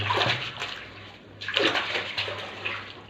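A wool quilt soaks in a tub of medicated water, with continuous close sloshing and trickling water that swells and eases in waves.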